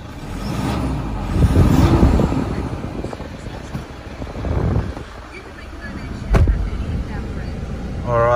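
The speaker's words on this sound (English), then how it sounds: "Give it a bit of a rev." A 2015 Toyota Hilux SR5 engine revs up in a couple of rising surges before dropping back, with wind buffeting the microphone.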